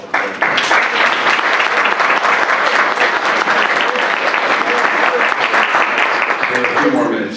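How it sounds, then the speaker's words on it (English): Audience applause for a panel, a steady, dense round of clapping from a full room that holds evenly for several seconds, with voices mixed in underneath. "And if we give them a round of applause."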